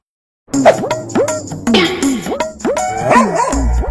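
A dog barks repeatedly at close range in a quick, uneven series of sharp yaps, some rising into whiny yelps, with a low rumble near the end.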